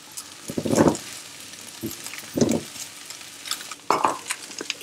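Chicken and onion sauté in a pan under a soft background sizzle, broken by several separate bursts of close stirring and scraping. No one speaks.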